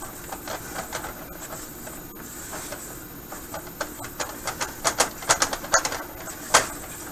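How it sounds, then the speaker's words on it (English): Peach cobbler batter being mixed in a bowl, a run of light tapping and scraping clicks that grows busier and louder toward the end, close by with no talk. "You just want to mix it till it comes together."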